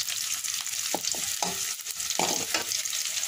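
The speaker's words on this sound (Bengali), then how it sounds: "একটু নেড়ে চেড়ে নিচ্ছি।" Bay leaves, cinnamon and cloves frying in oil in a pan, a dense continuous sizzle with a spatula stirring and scraping in short irregular strokes, close and fairly loud, no speech.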